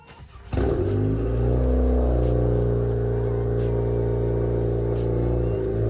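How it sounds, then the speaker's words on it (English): A 2022 Honda Civic Si engine cranks and catches on a cold start, then settles into a loud, steady idle rumble that holds for several seconds with no talking. "I'm gonna start the car so you guys can hear it, what it sounds like with a cold start."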